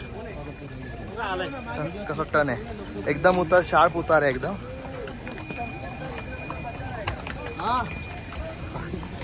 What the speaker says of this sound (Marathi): तो घोडा काय थांबेल.